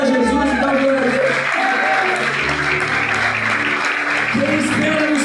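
Church congregation applauding in praise, a sustained spread of clapping under a voice and a low sustained musical tone, loud and continuous throughout.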